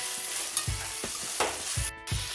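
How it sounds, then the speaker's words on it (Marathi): Green peas being stirred into spice masala frying in a pan, with several scraping spoon strokes over a soft background sizzle, close and moderately quiet, no talking. "हिरवे मटर मी मसाल्यामध्ये मिक्स करून घेत आहे"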